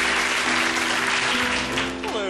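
A studio audience applauds after a comic song performance with piano, dense clapping mixed with lingering musical tones and a voice near the end.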